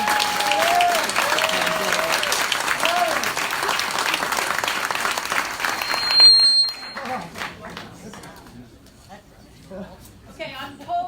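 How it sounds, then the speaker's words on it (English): Audience applause at a Boston city council candidate forum, sustained clapping from a room of people for about six seconds, then thinning out as a voice speaks over the fading claps. "So if you want to give everybody a round of applause now"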